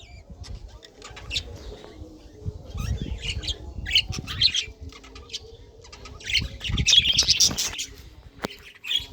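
A colony of pet birds in their cages, mostly newly adult breeding pairs, fills the air with overlapping chirps, squawks and brief wing flaps, close and lively, with calls rising toward the end and no voices heard.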